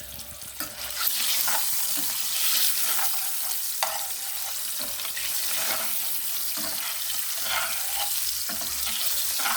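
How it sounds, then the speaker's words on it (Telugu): Boiled eggs frying with onions in a pan, a steady close sizzle with repeated scraping stirs and light clinks and no talking. "ఇట్లా గుడ్లన్నీ వేసుకోవాలి"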